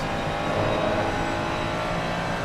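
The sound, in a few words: Ferrari and Porsche race cars in the PC racing video game Race On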